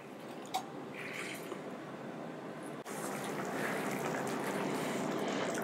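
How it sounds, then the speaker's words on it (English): Chicken broth and half and half sauce being stirred in a skillet, giving soft wet, drippy liquid sounds that run steadily throughout at moderate level, with a brief sharp click near the start. "And you'll constantly stir this until it's bubbling again."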